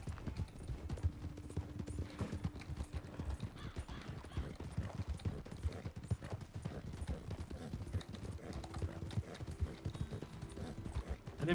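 Rapid, steady hoofbeats of a galloping horse in a video game run throughout, with a brief whinny, under muffled background voices.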